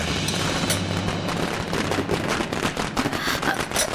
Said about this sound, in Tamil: இந்த வெடி சத்தம் வேற தலை வலிக்குது